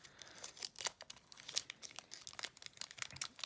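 A Yu-Gi-Oh Blazing Vortex booster pack torn open roughly, its foil wrapper crinkling and ripping in quick, close bursts of crackling for several seconds, with no voice.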